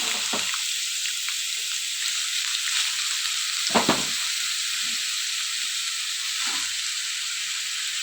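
Lentils and spices frying in oil in a pan for a ridge gourd chutney: a steady, loud sizzle runs throughout, with a few brief stirring knocks, no talk.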